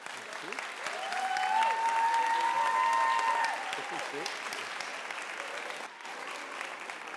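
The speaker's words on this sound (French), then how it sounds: "Même avant que je le présente, vous applaudissez" Audience applause welcoming a speaker at a talk on social pedagogy, a steady wash of clapping from a crowd under a tonal whistle or feedback, with voices faintly present.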